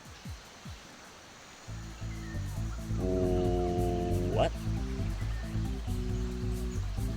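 A waterfall in the game RuneScape, Shilo Village area, gives a soft steady rush beneath looping tonal game music, with a short exclamation from a player partway through.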